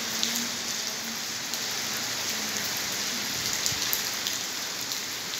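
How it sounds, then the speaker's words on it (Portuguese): Steady, heavy rain pours down in Ribeira do Pombal, drumming continuously on surfaces with scattered louder drips close by. "Hoje é chuva geral aqui em Ribeira Pombal"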